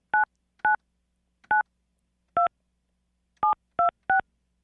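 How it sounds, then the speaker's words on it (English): A telephone number is dialed on a keypad, seven clean touch-tone beeps in an uneven rhythm with silent gaps between them, loud and close with nothing else heard. "Let's hear what the phone number actually sounds like."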